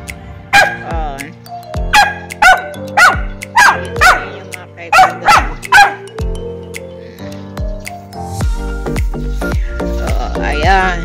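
Pet dog barking in a home in the morning: a run of loud, close, regularly spaced barks, then a pause and some softer yips and whimpers over a low background hum.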